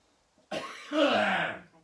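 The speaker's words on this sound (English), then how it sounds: "Excuse me, but it's a wet cough." One close, throaty wet cough, rough and phlegmy, rising to a harsher second push before trailing off.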